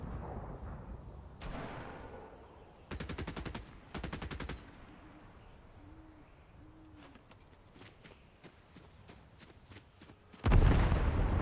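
Short bursts of rapid gunfire in a Fortnite match, several distinct rattling volleys separated by quieter stretches, with a loud close burst at the end.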